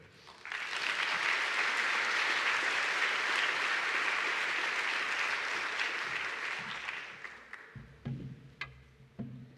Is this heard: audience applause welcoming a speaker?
yes